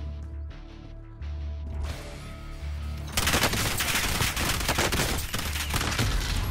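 Rapid, loud gunfire from the Warzone video game, a dense burst of shots filling the second half after quieter game sounds and music.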